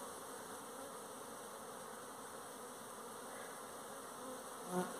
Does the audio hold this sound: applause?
no